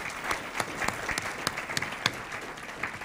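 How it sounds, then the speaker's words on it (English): Applause from an audience at a NASA science forum for the speakers, a steady scatter of clapping with some louder individual claps, heard from across a large room. "So if we could give all of our speakers one more round of applause"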